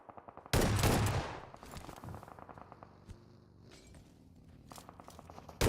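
Gunfire in a PUBG Mobile esports match: a sharp, loud shotgun-like blast with a ringing tail, then scattered distant shots, footsteps and a final burst of rapid fire.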